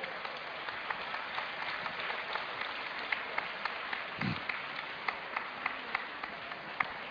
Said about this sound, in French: On l'applaudit, on s'il peut vous plaît.